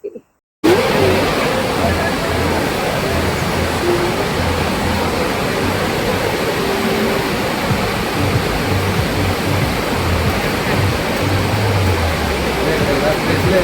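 Puttalagorra waterfall in Alluri District pours with a loud, steady rush of flowing water. The close, dense roar holds unbroken for the whole stretch after a brief silent opening.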